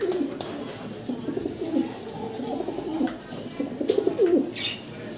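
Pigeons at a breeder's loft cooing in low repeated rolling calls, close and fairly loud, several birds overlapping with a stronger burst toward the end.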